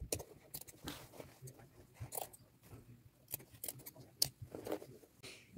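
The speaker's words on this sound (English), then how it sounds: "I am just going to cut out with my scissors." A few quiet, crisp snips of scissors cutting fabric appliques, spaced irregularly, close up in an otherwise quiet room.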